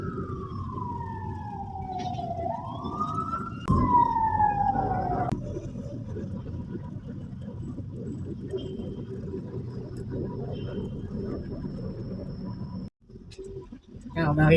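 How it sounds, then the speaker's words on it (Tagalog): Ambulance siren wailing in a rising and falling sweep behind stalled traffic on a barricaded street, loud at first and then fading, with a low engine rumble underneath and a person talking over it. "may ambulansya sa likod"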